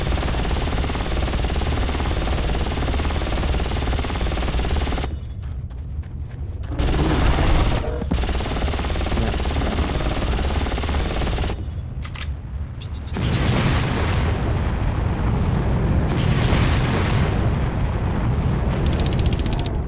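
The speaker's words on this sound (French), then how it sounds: "Et il tire des missiles." Far Cry gameplay with dense, loud bursts of gunfire and missile explosions, a continuous rattling, crackling barrage broken by a couple of brief quieter lulls before firing resumes.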